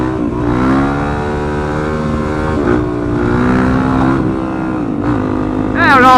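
A Yamaha WR450F dirt bike engine revs and holds steady, rising and falling through several throttle swells over about six seconds, loud and close, with a sharp rev climb at the end as the rider tries a wheelie.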